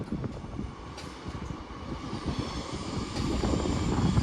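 A Class 805 Avanti train, unit 805013 from Chester, rolls into London Euston with a steady low rumble and rising mechanical noise in a large station, no voices.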